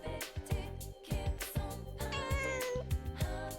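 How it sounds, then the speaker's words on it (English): Meowing from a cat in the video game Persona 4 Golden, several short meows rising over layered background game music, clear and close. "It meows. There's a cat."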